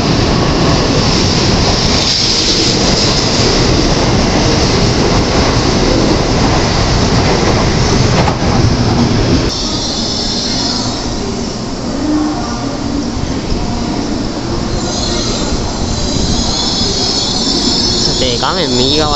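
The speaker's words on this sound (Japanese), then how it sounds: "N700系での運転ということになっております。" N700 series Shinkansen bullet train at Kyoto station, a loud continuous rumble and roar of the train moving along the platform with wheel noise, easing slightly partway through, with faint speech beneath.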